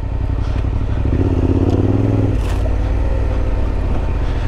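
A Yamaha Tenere 700 adventure motorcycle ridden off-road on a dirt trail, its engine droning loud and close with rough rumbling, wind buffeting and a brief rising rev in the middle.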